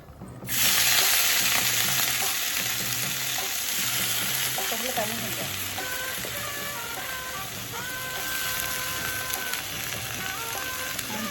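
Potatoes fry in a pan with a loud, steady crackling sizzle, like rain on a surface, lasting throughout with no speech.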